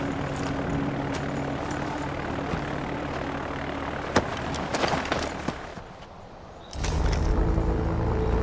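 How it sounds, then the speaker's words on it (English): An airplane in the video game Far Cry 4 droning with a steady propeller engine roar under scattered clicks and thumps, dipping briefly before the engine surges back louder and closer as it prepares to take off. "The one in the plane that's about to take off."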